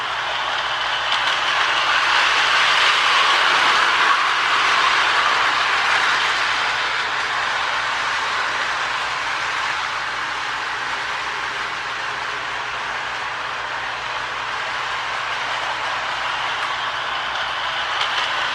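A Lionel Alco model train runs steadily along its track, giving a continuous smooth rolling whir and hum at close range with no talking.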